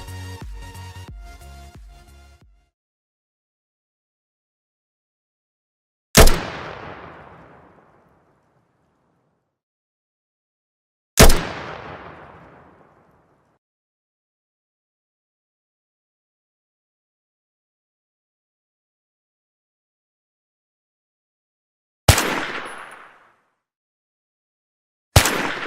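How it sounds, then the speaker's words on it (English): AKM rifle shots built as gunfire effects for an ARMA 3 mod: three loud, isolated single reports with sharp attacks and long echoing tails, spaced several seconds apart amid silence, plus a fourth shot at the very end. "Here I have 2 sounds that fits my impression of the character of a AKM fire sound."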